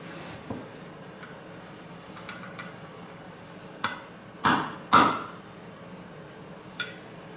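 A hammer drives a small metal punch against the clutch basket of a Honda XR650R: sharp, close metallic taps, scattered and irregular, with a few harder ringing blows in the middle and no voices.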